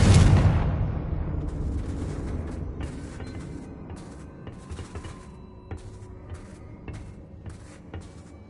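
Confringo explosion spell in Hogwarts Legacy going off with one heavy booming blast at the start that rumbles and fades, followed by scattered clattering debris and small impacts.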